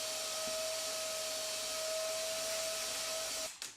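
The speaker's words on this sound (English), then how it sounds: "Before I glue up, it's important to vacuum and get rid of all the wood dust and bits." Vacuum cleaner running steadily with a constant whine while clearing wood dust from a woodworking bench top, close and loud, cutting off abruptly near the end.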